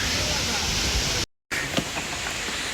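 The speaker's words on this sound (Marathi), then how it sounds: "काय वाटतोय जवळून झरा आणि काय हवा सुटलीये." Water rushes over rocks close by at a stream below the Marleshwar pilgrimage site, a steady, loud broadband roar with wind mixed in, cut by a brief silent gap midway.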